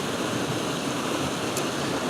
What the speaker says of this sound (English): Our third and final waterfall for today